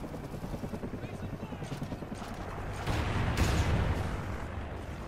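A friendly helicopter arrives in a multiplayer shooter video game. Its rotor chop pulses steadily, grows louder near the end and blends with gunfire and other battle noise while voices are present.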